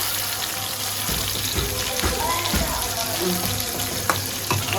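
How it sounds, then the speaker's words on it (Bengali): Potatoes frying in oil with spices, a continuous close sizzle with a few clatters and scraping knocks from stirring, and no voices. "আলুটা সুন্দর করে ভাজবো মশলা করে"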